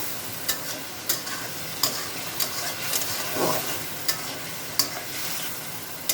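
Fried taki fish is sautéed in a pan, with a constant sizzling hiss broken by sharp, regular scrapes and taps of the stirring spoon about every second, close and clear.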